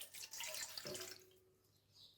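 Water poured into a glass indoors, a brief quiet splashing stream that fades into a faint ringing tail, no talking.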